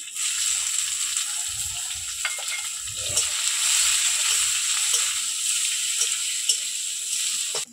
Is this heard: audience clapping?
no